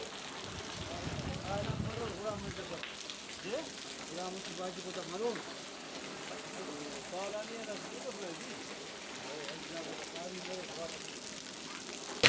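Heavy rain with wind outdoors during a dust storm in Balochistan, a steady dense hiss of rainfall and gusts with a voice talking underneath throughout.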